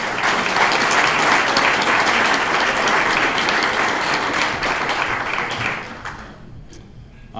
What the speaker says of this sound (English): Let's give them one more round of applause for appreciation.